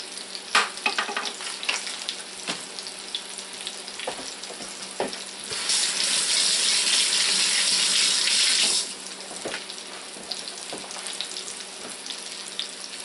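Flat chicken cutlets frying in a pan give a steady close sizzle, joined midway by a few seconds of running tap water and scattered clinks and scrapes of utensils.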